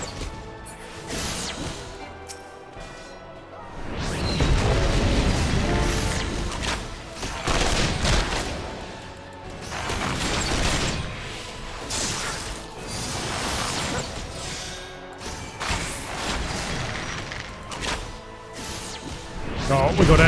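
Magitek cannon blasts in the Final Fantasy XIV online role-playing game land in repeated heavy crashing bursts, fairly loud, over continuous battle effects and game music.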